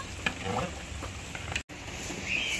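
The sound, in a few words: stirring khichuri with salt and turmeric in a pot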